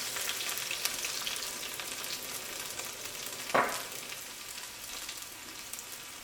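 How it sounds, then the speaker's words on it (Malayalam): Crushed garlic added to mustard seeds spluttering in hot coconut oil, a soft continuous sizzle with one sharp burst partway through as the garlic hits the pan, fairly quiet and without talk. "ചൂടായ വെളിച്ചെണ്ണയിലേക്ക് കടുകിട്ട് പൊട്ടിക്കുക. ഇപ്പം കടുക് പൊട്ടിയിട്ടുണ്ട്. ഇതിലേക്ക് ചതച്ച് വെച്ചേക്കണ വെളുത്തുള്ളി ചേർക്കുക."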